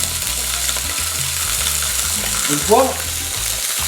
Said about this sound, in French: quand ta poêle est bien fumante et quand ton huile est bien chaude, tu saisis tes rougets côté peau